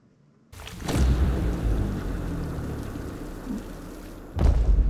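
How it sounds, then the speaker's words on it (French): Rain and thunder from a scene in the 2023 film The Black Demon: steady broadband downpour hiss with a deep booming crash near the start and another heavy rumble at the end, loud and with no talk. "il pleut. Et il pleut."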